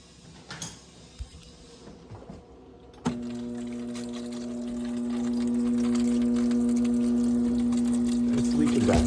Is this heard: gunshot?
no